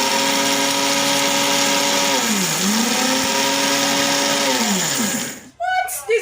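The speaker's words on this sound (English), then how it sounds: "This is a blender that I want." A Robot Magic 5500W blender runs at its lowest speed with a loud steady motor whine that dips briefly in pitch and recovers, then cuts off abruptly near the end as a voice speaks.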